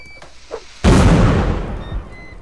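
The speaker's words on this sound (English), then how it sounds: "These are mortar rounds over here." A mortar firing in the Napoleonic Wars module of Mount and Blade, one loud close boom that hits hard and decays into a long rumbling tail, following quieter faint sounds before it.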